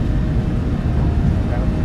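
Jet engines of a PMDG 737-700 spool to takeoff power in a flight simulator, a loud, steady broadband roar with no breaks.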